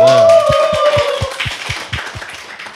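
A small group in a casual travel-show gathering claps, briefly over a voice and then alone. The crisp, close claps fall in a steady rhythm, about five per second, with no talk after the opening.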